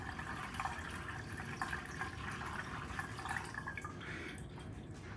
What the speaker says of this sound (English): Now you can see this is just pouring right through.